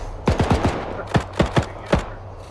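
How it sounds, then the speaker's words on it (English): Thompson machine gun fire in a WW2 video game: several short, sharp bursts of rapid shots in quick clusters, loud and close, with little else around them. "We'll use our Thompson machine guns, don't worry."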